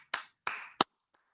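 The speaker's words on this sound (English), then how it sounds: "Give everybody a collective round of applause." A few scattered hand claps at a team meeting: three sharp, separate claps within a second, then a faint tap, quiet and sparse rather than a full round of applause.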